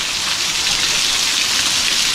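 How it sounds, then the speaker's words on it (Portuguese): Steady rain pouring down over an open-air street market in Bahia, a dense, even hiss of drops hitting surfaces, constant and fairly close with no voices. "Quem imaginava vir essa chuva boa, né?"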